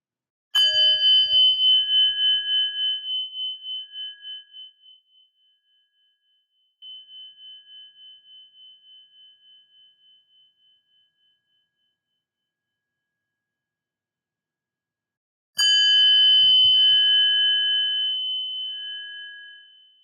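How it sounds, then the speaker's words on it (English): A Japanese gong is struck and left to ring, a clear bright tone decaying slowly, then struck once more after a long fade; struck ringing tones sound alone in a quiet room. "instead of chanting Om, we strike the gong"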